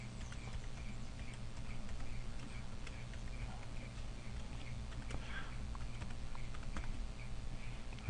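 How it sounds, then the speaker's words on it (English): Steady, close tapping of keys on a computer keyboard as an administrator password is entered, with soft low room hum beneath the irregular clicks. "And I'm going to enter the administrative password."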